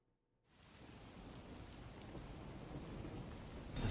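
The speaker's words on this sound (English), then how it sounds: "faint sound of a ticking clock melts against the sound of rain" Steady heavy rain with low thunder rumble swells in after a brief silence and keeps pouring, in the game Master Detective Archives: Rain Code.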